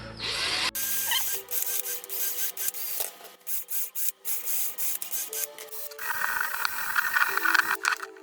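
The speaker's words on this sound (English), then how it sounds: "Sand those off." Brake parts being sanded during front brake work on a 2006 Pontiac Vibe, a close, whirring power tool that starts and stops in short bursts and changes pitch, then runs longer and harsher at the end.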